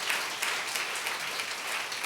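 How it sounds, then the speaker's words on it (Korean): A church congregation applauds during a Sunday worship service, a steady wash of many hands clapping that fills the whole two seconds at an even level, with no talking over it. "우리 박수 한번 쳐주시길 바래요."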